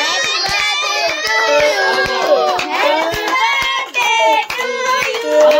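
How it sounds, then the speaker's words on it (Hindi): Hands clapping in rhythm at a home birthday celebration, sharp regular claps under loud overlapping voices and singing from several people, including children. "ताली बजाओ ना ताली"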